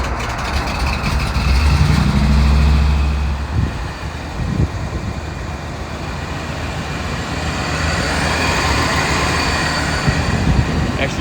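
Heavy rumbling run of a 1998 Chevrolet C3500 HD bucket truck with a 454 engine, loud and close, swelling early then settling into a steady low drone with rattles.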